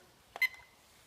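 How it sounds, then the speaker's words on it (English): A homebrewing timer gives a short electronic beep as it starts during a beer wort boil, a single brief tone in an otherwise quiet room. "Start the timer."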